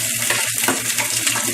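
Dry roasted hot chili and green onion sizzle in hot oil in a wok, a loud continuous crackle with a low hum and occasional metallic scrapes of stirring.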